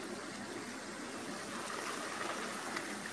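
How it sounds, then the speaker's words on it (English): Salted water in a pasta pot boiling up, a steady close hiss and rushing bubble with no pauses. "I love it when you add salt to boiling water and it boils up like that"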